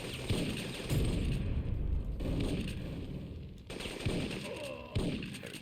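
Shotgun blasts boom in the PS1 game Syphon Filter, several loud, close shots spaced about a second apart over dense in-game noise and rumble.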